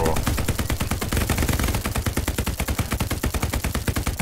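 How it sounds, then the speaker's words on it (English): A machine gun in the World War II shooter Hell Let Loose fires a continuous, rapid, loud burst of evenly spaced shots, close by, with no talk over it. "That MG is right there with that hit. That gun is so horrible."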